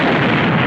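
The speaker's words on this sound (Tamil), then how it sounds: "சொல்ல சொல்ல வெடி போறியாடா?" A firecracker burst in a Tamil film fight scene, a single loud, dense blast that fills the whole moment with no gap or decay.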